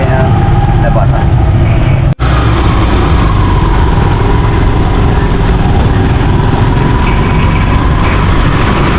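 A motor tricycle engine runs steadily and loudly close by, a constant low rumble with one brief dropout near the start, while voices talk faintly underneath.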